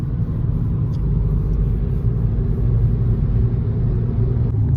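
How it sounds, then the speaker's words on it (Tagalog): Steady road traffic rumble from cars on a busy road, heard from inside a moving vehicle as a continuous loud low drone with no pauses. "Very traffic."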